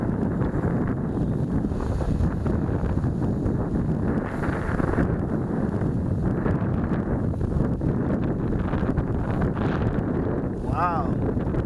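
Strong outdoor wind buffets the microphone in a continuous loud rumbling roar, with no let-up for the whole stretch and a brief faint whine near the end.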